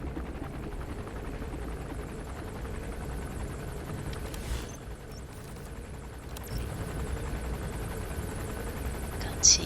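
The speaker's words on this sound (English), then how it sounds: "That's an enemy gunship." An enemy gunship helicopter in Metal Gear Solid V: The Phantom Pain drones with a steady, rumbling rotor throb, moderately distant, without speech.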